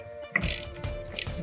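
Ratchet wrench tightening the lug nuts on a car wheel after a flat tire, giving quick bursts of close, crisp clicking in two short runs with a brief pause between.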